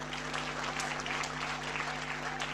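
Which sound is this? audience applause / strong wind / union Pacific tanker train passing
audience applause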